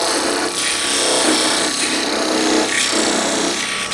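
A turning tool cuts the inside of a small wooden box on a lathe, producing a rhythmic, raspy scraping that swells and fades in repeated strokes, loud and close with no talking.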